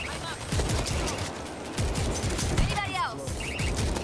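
Rapid gunfire in World War Z horde mode, loud crackling bursts layered with zombie growls and game noise, people talking over the chaotic firefight.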